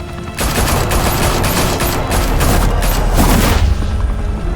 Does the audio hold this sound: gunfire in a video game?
yes